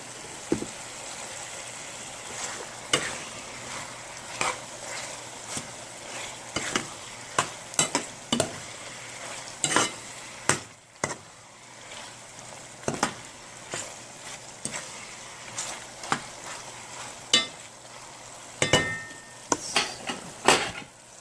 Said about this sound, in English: So we're going to stir that up.